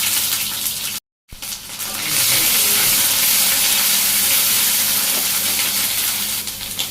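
Onion paste frying in a pan, a loud continuous hissing sizzle that cuts out for a moment and then surges back stronger and steady.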